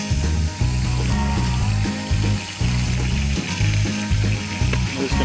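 Bacon sizzles in a hot pan over a campfire alongside beef and vegetables, a loud, continuous close crackle with a pulsing low rumble running under it.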